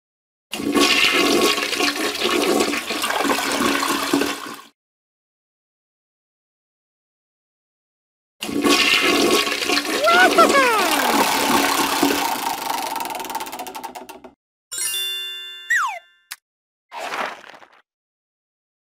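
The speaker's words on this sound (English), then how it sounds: "After Elmo uses the potty, he always flushes." Two loud toilet flushes, each a rushing gurgle of water lasting a few seconds with silence between, followed by brief chimes and a swooping sound effect.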